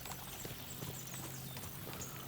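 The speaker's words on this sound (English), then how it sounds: "As soon as we cross the stream, we'll give the horses a gallop again." Horse hooves clip-clopping steadily at a gallop in Kingdom Come: Deliverance II, a continuous rhythmic pounding at moderate level beneath a low ambient hum, with no talk.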